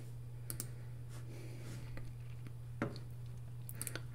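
Computer mouse clicks while working in Carbide Create CNC design software, a few faint, sparse clicks scattered over a steady low hum, with no talking.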